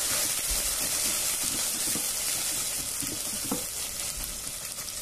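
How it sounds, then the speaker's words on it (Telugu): Ginger garlic paste fries in a pan, a soft, even sizzle with faint bubbling and an occasional light knock of a spoon against the pan. "దాన్ని కూడా అయితే పచ్చివాసన పోయే వరకు వేయించుకోండి."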